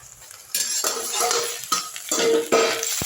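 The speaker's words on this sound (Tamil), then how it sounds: "ஒரு ரெண்டு நிமிஷத்துக்கு ஒரு முறை வந்து நீங்கள் வந்து லைட்டாக வந்து கிண்டி விட்டுருங்க" Okra curry stirred in a pot over medium heat, with a spoon scraping in several loud, close strokes in irregular bursts and no voices.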